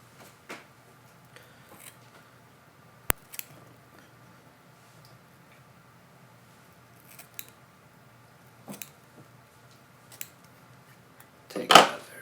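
Scissors trimming thread on a pike and musky fly-fishing popper, a few quiet, sharp snips spread apart in an otherwise quiet close setting.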